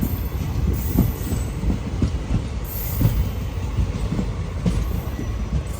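A train rolls through Mangaluru Junction with rhythmic clickety-clack of wheels over rail joints and faint wheel squeal, a steady rumble heard fairly close for several seconds without voices.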